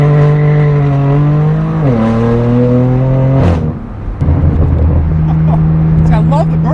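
A used BMW M4 F82 runs close and loud, holding a steady engine drone that rises and drops through revs, with a brief dip and sharp crackles near the middle, then settles back into a steady idle-like hum.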